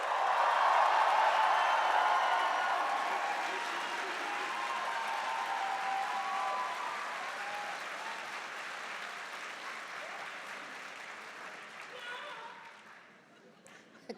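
A large audience at SAIT's Spring 2026 convocation ceremony bursts into sustained applause and cheering, the dense clapping loudest at first and slowly tapering off over about fourteen seconds.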